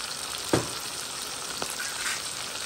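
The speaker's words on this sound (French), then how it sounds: "Je mélange le tout." A mixture sizzles steadily in a hot pan while a utensil stirs it, giving a couple of brief scraping knocks against the pan under the continuous frying hiss.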